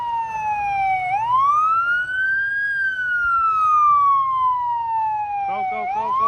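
A Toronto fire truck's siren passes close and loud, wailing in long rising and falling sweeps over low street traffic rumble, with a brief yelping burst near the end.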